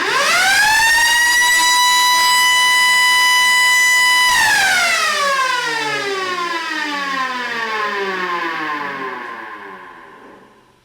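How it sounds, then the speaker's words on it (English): A mechanical multi-port civil defense siren with a fast-spinning chopper holds a loud, steady high wail, then winds down in a long falling glide that fades out. "To me it sounds like a really sick 912 port siren"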